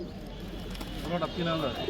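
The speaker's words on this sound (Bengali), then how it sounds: "এই যে এই খাঁচার মধ্যে এক জোড়া কবুতর দেখতে পাচ্ছি" A pair of Sirazi pigeons coo softly from a cage at a busy pigeon market, brief low calls close by, heard under the chatter of people talking nearby.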